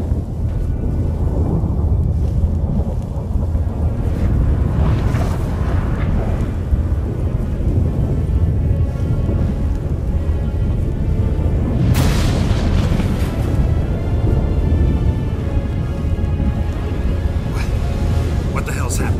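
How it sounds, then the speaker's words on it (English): A rumbling thunderstorm in The Witcher 3 rolls on continuously with deep booms and crackling bursts, loud and dense throughout, while characters talk over it. "That a storm?"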